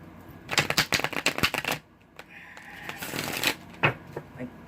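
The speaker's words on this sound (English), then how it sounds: "I'm going to shuffle the cards here" A deck of tarot cards is shuffled by hand: a quick run of crisp riffling flutters, a short pause, then another burst of shuffling with a few soft card taps, close and clear.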